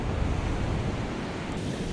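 Atlantic Ocean surf rolling onto a secluded Florida beach, a dense continuous wash of breaking waves, close and steady, with wind buffeting the microphone and no voices.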